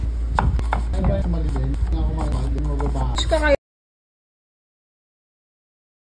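A knife chops garlic into mince on a board in quick, uneven taps for about three and a half seconds, close and crisp, then stops into silence.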